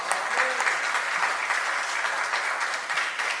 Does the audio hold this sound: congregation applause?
yes